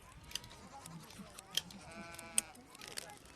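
Sheep bleat in a Mongol camp of yurts and carts, a few faint wavering calls at a distance over low background noise and a narrating voice.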